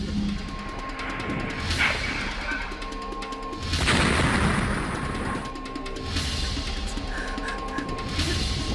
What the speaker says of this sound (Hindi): पांच दिन हो गए हैं, धमाकों की आवाज तेज होती जा रही है।